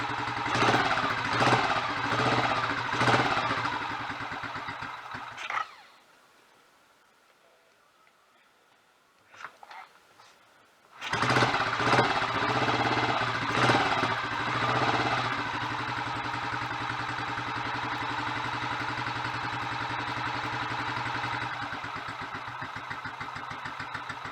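A Royal Enfield 500 single-cylinder motorcycle engine, just rebuilt at the top end, runs with a steady thumping idle, cuts out into near silence for several seconds, then fires again and settles into a loud, even idle close by.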